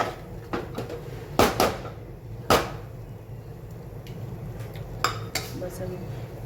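A spoon stirs khichdi in a metal pot in a home kitchen, giving a few sharp, close clinks and scrapes at irregular moments over a quiet background.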